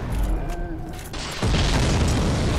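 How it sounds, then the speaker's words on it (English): A huge cannonball blast goes off in Sen's Fortress in Dark Souls: a sudden loud boom that bursts in after a quieter stretch of game sound, then a sustained roaring rumble that carries on to the end. "he can just stand in gigantic cannonball explosions."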